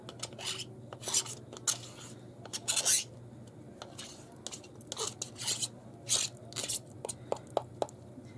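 A tool scraping the last of an extra heavy gel gloss out of a nearly empty jar, producing irregular, close scratchy rasps and clinks against the container, with brief pauses between strokes.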